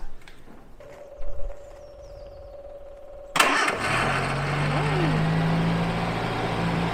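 A classic car engine cranks and catches, then settles into a loud, steady idle close by, after a quiet stretch with a brief rattle.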